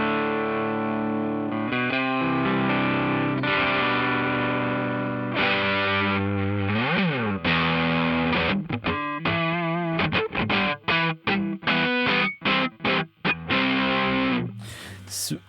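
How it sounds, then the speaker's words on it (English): An electric guitar runs through a JHS Kilt pedal with G2 turned up, giving a fuzzy, saturated distortion: sustained chords first, then quicker choppy strummed and muted notes near the end. "If you turn G2 up, you're going into more of a distortion sort of land with a bit of sort of fuzziness"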